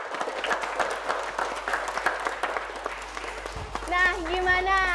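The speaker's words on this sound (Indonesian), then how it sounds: "Tepuk tangan dong sekali lagi untuk Sergei" Scattered applause from an audience at a children's performance event at an elementary school, uneven claps under a loud ambient hum, followed by a child or singer's voice near the end.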